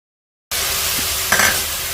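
A pot of spice masala paste of green and dried chilies, ginger and garlic, with water, salt and turmeric added for beef nehari: after brief silence, a steady close hiss of simmering with a short stirring scrape.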